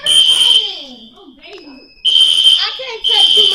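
A hotel fire alarm rings loudly in steady, piercing bursts, cutting out briefly before sounding again, while people talk nearby.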